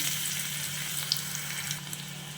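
Garlic dropped into hot oil for a dal tempering, giving a steady close sizzle that holds evenly with faint bubbling and no talk.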